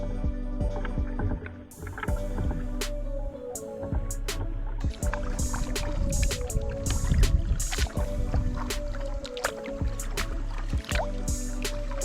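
Kayak paddling on a lake in Tallulah Gorge, Georgia: repeated paddle strokes and drips splash close by in an uneven rhythm over a low steady rumble of wind and water.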